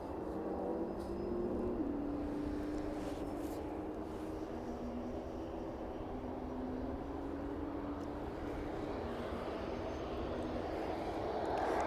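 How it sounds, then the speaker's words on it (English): A Maersk cargo plane on final approach to runway 27 at East Midlands Airport, its engines a steady loud drone with a slowly falling whine, heard throughout with no talking. "And the Maersk on final approach now for runway 27."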